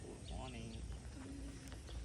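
Birds call at a countryside resort on a morning, with chirps and cooing notes mixed into the scene while a person talks nearby.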